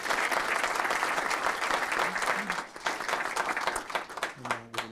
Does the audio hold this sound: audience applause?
yes